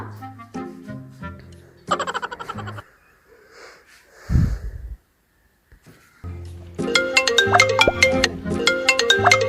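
A bright electronic ringtone melody plays in bursts, breaks off for a moment of breathing and silence, then resumes louder with repeating tones.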